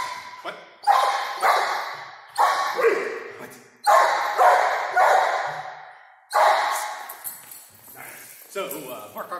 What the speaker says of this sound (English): Bark on command without back tie.